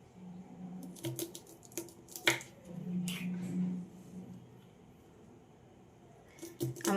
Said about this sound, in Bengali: এবার ছোট ছোট করে কেটে নেব।